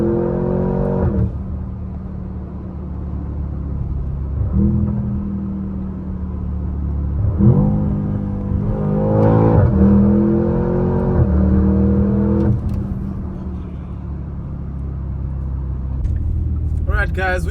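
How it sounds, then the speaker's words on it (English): A 2025 Porsche Cayenne Turbo GT engine rumbles and surges in short bursts of acceleration on a Dubai road, with a steady interior drone under frequent talk. "these little short bursts of acceleration showed me what a machine the Turbo GT"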